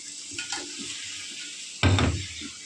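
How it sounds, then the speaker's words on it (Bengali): Hilsa fish frying in spiced masala in a pan, a steady close sizzle with soft stirring scrapes and one louder burst of sizzling and clatter partway through. "ইলিশ মাছটা কষায় নিতেছি।"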